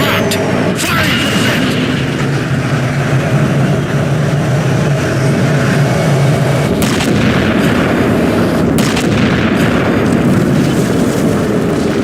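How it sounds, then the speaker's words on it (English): The Mammoth's heavy cannon fires during a Halo 4 campaign mission, a loud sustained roar of artillery blasts and rumbling explosions that fills the whole stretch with dense, continuous noise. "Target locked! Firing!"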